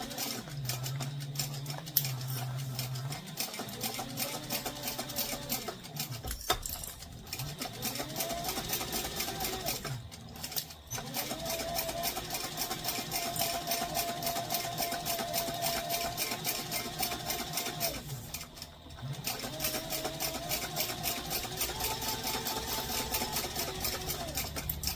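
A sewing machine stitches a satchel bag seam in short runs, its rapid mechanical whir rising and settling with brief pauses between bursts, close and steady.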